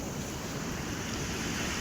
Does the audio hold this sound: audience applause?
no